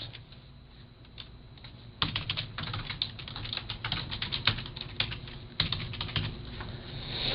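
Rapid clicking keystrokes on a computer keyboard come as card details are entered, starting sparse and quiet, then turning into a louder, steady burst of typing close by.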